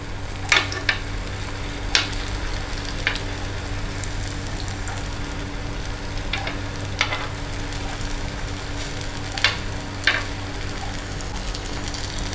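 Meatless burger patties fry in oil in a pan, a steady close crackling sizzle with a low hum beneath and occasional sharper pops and clinks scattered through.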